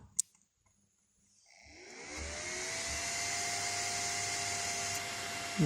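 A Kulon 820 battery charger's original cooling fan spins up once charging starts, preceded by a sharp click, then settles into a steady whirring hum that holds on alone.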